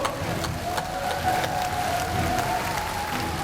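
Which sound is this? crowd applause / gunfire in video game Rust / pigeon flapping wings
crowd applause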